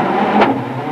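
A rally car's engine at the start line of the 2003 Swedish Rally, Carlos Sainz's car stalling there, heard as a short, fairly loud rasp that swells and fades within a second over steady background noise.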